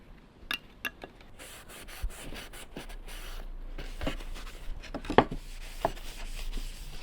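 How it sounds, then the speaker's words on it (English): Weathered oak wood stain rubbed by hand onto a cabinet panel inside a van, soft close scuffing and wiping strokes with small taps and brushes, faint and intermittent. "let's put one more layer of the stain so that I can put the polyacrylic on it later today"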